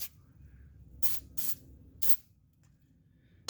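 PB Blaster penetrating oil sprays from an aerosol can in three quick close bursts, then a short final burst, each a sharp hiss over a quiet background.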